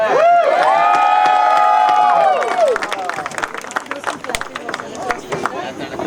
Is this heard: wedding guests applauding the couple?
yes